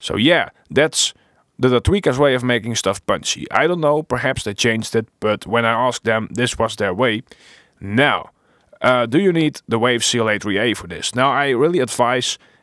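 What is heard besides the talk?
None of the usual background noises is heard.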